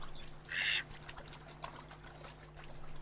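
A cartoon duck in a pond gives one short, bright quack, followed by faint trickling water against a quiet background.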